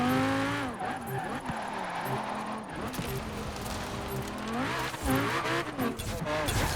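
A Radical track car in the racing game Forza Horizon 4 revs hard through tight corners, its engine note rising and dropping with repeated gear shifts and bursts of tire noise, loud and close throughout.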